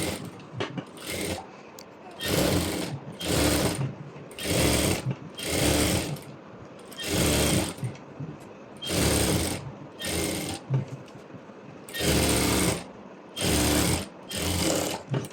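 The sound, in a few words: sewing machine stitching lining to saree fabric edge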